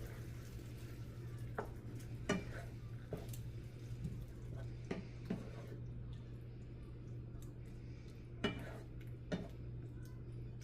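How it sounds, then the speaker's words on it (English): Cashew chicken is stirred in a pan, with a steady low hum beneath and several separate scraping knocks of a utensil against the pan, spread irregularly and no speech. "I'll start getting everything kind of stirred together here."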